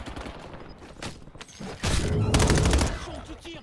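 Gunfire in Call of Duty: Warzone: rapid scattered shots, then a louder sustained burst of automatic fire in the second half, with in-game voices and ambient noise underneath.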